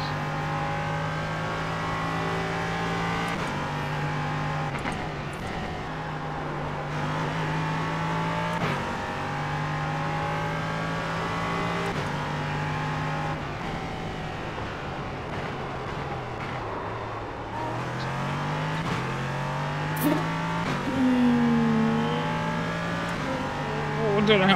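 An LMP3 race car engine in the iRacing sim drones steadily and rises and falls through gear shifts, with a brief tire squeal late on.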